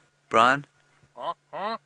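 A man vocally imitates a hadeda ibis, giving three loud, harsh, nasal honking calls, the first longest, with short pauses between them, up close.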